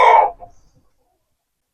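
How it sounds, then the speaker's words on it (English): A single blue Andalusian rooster crows loudly and close by in winter, a short harsh call trailing off into silence before another burst starts at the very end. "Roosters have nothing to do this time of year except scream and yell"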